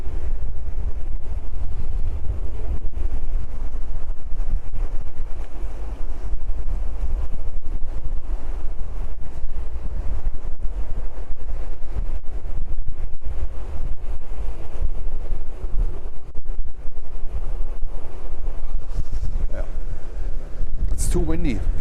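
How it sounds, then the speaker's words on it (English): Strong gusty wind buffeting the microphone at an airport plane-watching spot, a continuous loud low roar throughout, with faint sounds underneath. "Too windy. It's extremely windy here."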